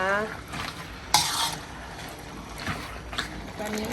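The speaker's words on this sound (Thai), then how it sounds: "แล้วก็คนให้เข้ากันนะคะ" Metal scraping and stirring of Thai braised pork leg stew in a wok over a steady sizzle, with a few louder clanks of the utensil against the pan.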